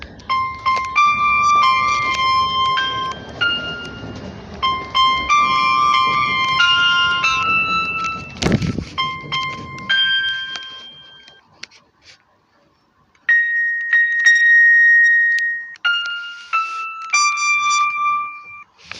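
Piano played in short melodic phrases of clear sustained notes, with a brief pause near the middle before playing resumes, heard close and fairly loud.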